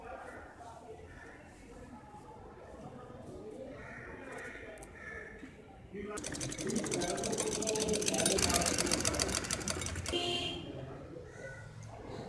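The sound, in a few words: sewing machine stitching the corner of a lace neck design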